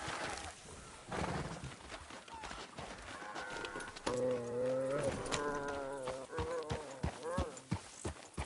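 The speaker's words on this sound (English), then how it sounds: "Fine horse you got there." Horse hooves clip-clop in Red Dead Redemption 2 as a steady walking rhythm of sharp knocks, heard alongside game dialogue and a tonal voice or music line.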